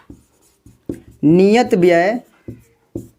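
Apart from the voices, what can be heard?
writing a maths solution by hand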